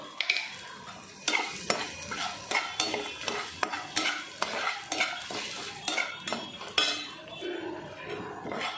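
Cashews and raisins fry in a pan, with a constant light sizzle under rhythmic metal spoon scrapes and clinks against the pan throughout.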